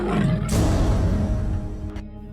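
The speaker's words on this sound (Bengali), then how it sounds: "দেখতে তো মনে হচ্ছে গরু, কিন্তু ডাকছে তো বাঘের মতো।" A white tiger in the Sundarbans forest lets out one loud, rumbling roar that swells and then tapers off over about two seconds.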